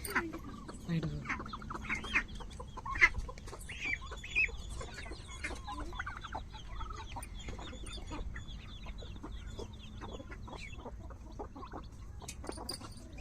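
Chickens cluck repeatedly in short, irregular bursts, fairly close, with soft farmyard background noise throughout.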